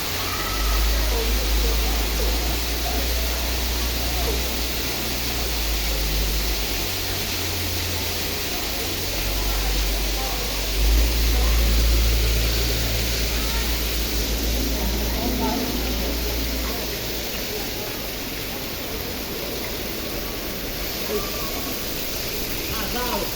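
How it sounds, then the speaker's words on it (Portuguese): Heavy rain pouring on a city produces a constant, dense roaring hiss throughout, with people talking over it nearby. "E é muita chuva, velho. Engrossou, engrossou."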